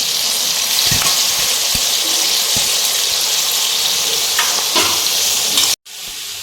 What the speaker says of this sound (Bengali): পেঁয়াজ চিকেন ভাজছি, তার সঙ্গে আমি এই বিনস আর গাজরটাও ওর সঙ্গে ভেজে নিচ্ছি।